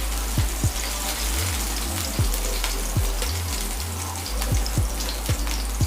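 Egg fried rice sizzles in a hot pan, with a steady close frying hiss broken by sharp clicks of a spatula stirring and scraping.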